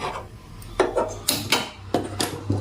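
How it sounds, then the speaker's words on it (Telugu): Metal clinks and scrapes as a pan is set on a kitchen stove before cooking capsicum tomato fry, several close, light knocks in quick succession with no talk. "పెనం పెట్టుకున్నాను"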